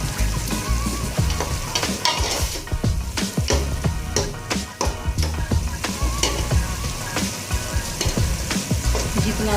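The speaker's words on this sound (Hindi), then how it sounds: "इसकी भुनाई।" Aloo qeema, potato with minced meat, sizzles and fries steadily in a pan while being stirred and roasted, with frequent scraping and clattering from the spoon over the loud continuous crackle.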